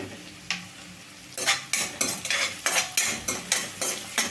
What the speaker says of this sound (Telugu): ఉల్లిపాయ ముక్కలు వేయించుకున్నాము చూడండి